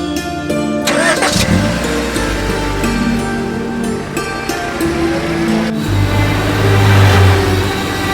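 A car engine cranks and catches, then runs and revs as the vehicle pulls away, loud and close, with a steady hum settling in toward the end.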